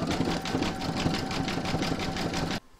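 A sewing machine stitches appliqué pieces for a large reindeer design, its needle running in a steady rapid mechanical rhythm close by before stopping abruptly.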